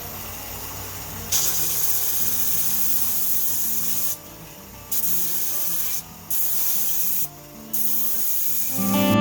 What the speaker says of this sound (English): I'm going to put on a 3-inch sanding disc. This is 120 grit